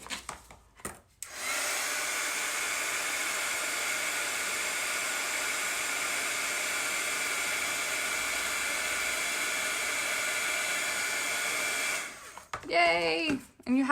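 A heat tool roars in a steady, loud hiss for about ten seconds while setting embossing powder on a craft card, starting and stopping abruptly, with a brief voice at the very end.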